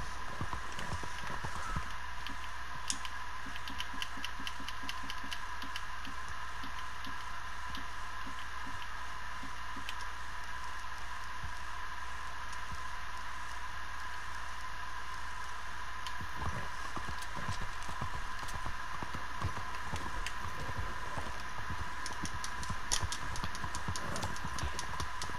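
Horse hooves clip-clopping in Red Dead Redemption 2, a steady rapid patter of hoofbeats running the whole stretch over constant game ambience, with a busier burst of louder hits near the end.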